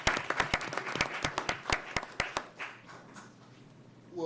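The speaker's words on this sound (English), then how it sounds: "can we give Mr. Rogers a round of applause as he comes forward?" Brief applause breaks out at a Duval County School Board regular meeting, a scattering of distinct sharp claps in an irregular rhythm that thins out after about two and a half seconds, leaving a quiet room.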